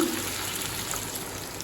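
Water pours steadily into a pot of chicken curry, a continuous splashing rush that runs throughout without pause.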